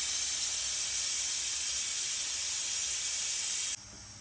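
Steam hisses from a covered pot of mutton and potato curry (aloo gosht) cooking on dum. The hiss is loud, steady and close, then cuts off abruptly just before the end.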